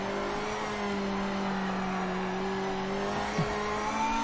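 A race car in the Project Motor Racing video game holds a steady engine drone with sustained harmonic tones and a brief bump near the end. The engine stays at a fairly even pitch, with no voices.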